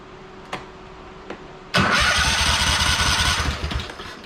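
Two faint clicks, then a small engine suddenly cranks and sputters loudly for a couple of seconds before fading slightly.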